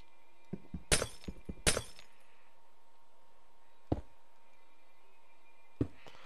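Glass blocks in Minecraft shatter in a quick cluster of sharp crashes near the start, followed by two more isolated breaks separated by quiet gaps.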